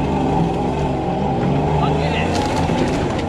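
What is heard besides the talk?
supercharged Toyota Hilux truck driving on a bouncy test drive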